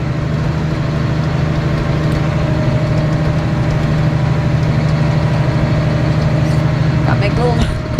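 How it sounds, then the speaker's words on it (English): Cab of a John Deere 8330 tractor pulling a grain cart during corn harvest, the engine running with a constant deep droning hum, close and loud, with a voice talking over it. "I'm in an 8330 tractor, John Deere"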